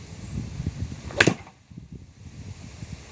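A golf club strikes the ball during a winter practice session, a single sharp crisp impact near the middle over low outdoor rumble and faint background noise.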